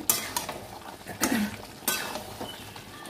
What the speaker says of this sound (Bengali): মিশিয়ে এবার এটাকে কষাতে হবে পুরো, যতক্ষণ তেল না ছাড়বে ততক্ষণ কষাতে হবে